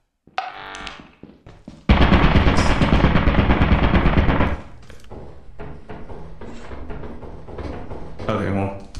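Turrets in a video game hallway let loose a loud, rapid burst of automatic gunfire lasting a few seconds, followed by quieter thuds and clunks while people talk over it.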